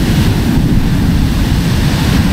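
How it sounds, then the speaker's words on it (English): Rough ocean surf breaking on a New Jersey beach before sunrise during a fall surf-fishing trip, a steady loud roar of crashing waves with wind buffeting the microphone and no voices. "Waves are getting big."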